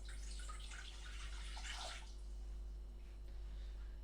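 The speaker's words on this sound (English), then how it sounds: "To that, we're going to be adding 250 millilitres of water." Water, 250 millilitres, poured into a pan for cooking, a bright splashing stream for about two seconds that then fades to a steady low hum in the kitchen.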